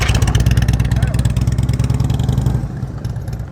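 Motorcycle engine held steady on the throttle during a slow-speed cone-course turn, a continuous near, pulsing mid-pitched drone that eases slightly toward the end.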